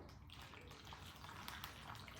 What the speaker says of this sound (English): I've just got a vase of water and I'm just going to simply pour it into the centre